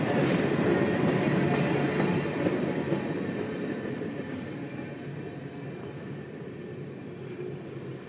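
CSX freight train L698 rolls past on the M&M Subdivision between Montgomery and Mobile, a loud, broad rumble of rail cars and wheels that gradually eases and fades over several seconds, with no talk.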